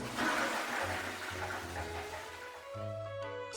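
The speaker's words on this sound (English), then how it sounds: "Ever wonder what happens after you flush the toilet?" A toilet flushes with a steady rushing, gurgling swirl of water that fades into a quieter refill hiss, heard alone without talking.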